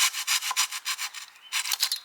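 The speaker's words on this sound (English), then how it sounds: "A flush cut saw like this," A flush cut saw trimming a glued wooden dowel flush with a wooden gate, a steady run of quick, close rasping back-and-forth strokes with no talk.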